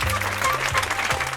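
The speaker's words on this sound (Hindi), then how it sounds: "उनके सम्मान के लिए आप सब लोग तालियां बजाइए," A crowd at a public gathering honoring a legislator applauds in a steady, dense wash of clapping throughout the short stretch, with a low droning hum underneath.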